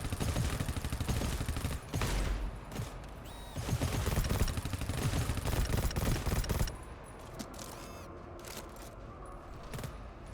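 Distant enemy gunfire in the co-op shooter GTFO: a dense, continuous rattle of shots and mechanical clatter for several seconds. It breaks off abruptly and leaves quieter scattered pops and creaks.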